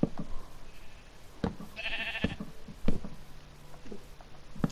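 A sheep bleats briefly in a Minecraft game, a short nasal cry midway through, amid soft knocks and taps from gameplay.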